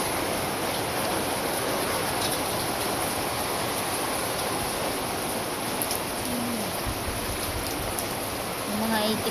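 Dense, steady roar of heavy rain pouring down, loud and unbroken throughout, with faint bird calls and ducks in the background.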